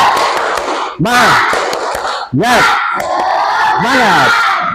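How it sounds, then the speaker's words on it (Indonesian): A primary-school class of fifth graders shouts a rhythmic spirited chant in unison, loud young voices rising in bursts with sharp claps between phrases, repeated several times. "Selanjutnya kita tepuk semangat dulu. Tepuk semangat."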